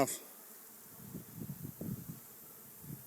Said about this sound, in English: that dude is just loaded with bees, loaded with nectar